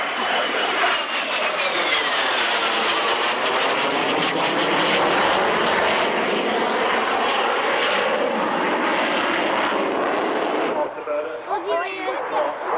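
A display aircraft at the 1994 Woodford Airshow roars past in a loud, sweeping engine rush with shifting pitch, the noise dominating before dropping away near the end, where a commentator's voice comes through faintly.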